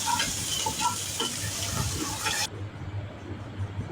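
Chopped onion, garlic and whole cumin fry in hot oil for nehari, a close, steady sizzle and hiss that suddenly dulls and softens halfway through.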